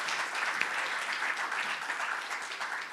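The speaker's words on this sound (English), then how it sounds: "Let's give ourselves a round of applause and the other ones a virtual round of applause." An audience at a Black History Month gathering in South Africa gives a short, even round of applause, a dense continuous patter of clapping at moderate volume with no voices.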